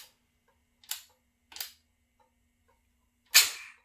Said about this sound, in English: When I turn the key to your bike on and then I turn it off, the starter triggers just slightly.